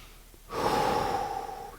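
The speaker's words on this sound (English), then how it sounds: "Take a breath." One long, close exhale with a soft airy hiss, taken in a standing forward fold during a vinyasa yoga class, starting after a brief pause and fading slowly.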